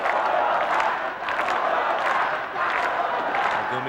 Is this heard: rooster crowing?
no